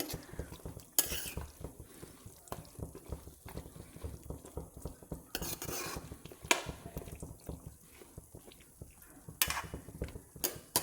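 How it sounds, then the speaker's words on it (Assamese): A spoon stirs tenga mora (mesta) jelly in a cooking pot, scraping and knocking against the metal in an uneven, repeated rhythm, close and fairly quiet. "এতিয়া অকণমান লৰাই দিম।"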